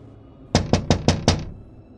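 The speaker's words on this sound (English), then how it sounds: "Suddenly there was a knock on the window from outside." Five sharp, evenly spaced knocks on a window of an eighth-floor apartment, loud and close, with nothing else in the quiet room.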